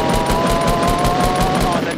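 Rapid bursts of automatic gunfire in a Fortnite Battle Royale duo match, loud and dense for the whole stretch, with game sounds layered in.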